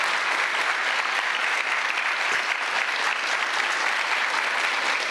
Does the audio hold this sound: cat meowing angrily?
no